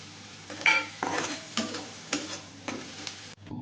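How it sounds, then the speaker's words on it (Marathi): Onion fries with tomato and curry leaves in a pan as a spoon stirs it, quiet sizzling under a rhythmic series of scraping, clinking stirs roughly every half second. "कांदा परतत आला की थोडीशी टोमॅटो टाकून घेऊयात आणि कढीपत्ता थोडासा"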